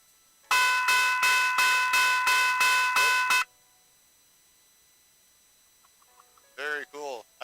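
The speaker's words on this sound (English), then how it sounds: "here's what this bell sounds like" An old railroad conductor's bell rings loud and close in a rapid run of about eight even strokes for three seconds, then stops; after a pause, voices talk briefly.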